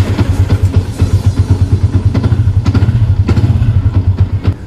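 A Yamaha Y15ZR motorcycle engine fitted with an auto start alarm runs close by, a loud, rapid, steady thumping idle with a clattery mechanical edge.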